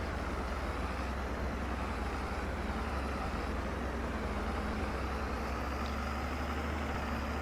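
A leased truck driving in Farming Simulator 22, a steady low engine drone and road rumble that holds evenly throughout at moderate volume, with no talk.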